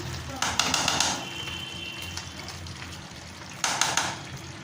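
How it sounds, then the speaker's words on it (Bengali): A little water is poured into a banana flower and chicken curry in two short gushing pours separated by a pause, close and moderately loud against a light background hum. "তাই অল্প একটু জল দিয়ে দিলাম"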